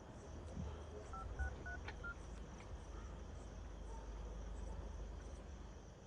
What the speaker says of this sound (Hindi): फोन मिलाइए घर पे